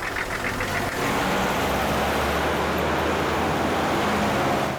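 A car engine turns over, catches and settles into a steady, loud idle rumble, with a brief higher whir at the start before the even running sound continues.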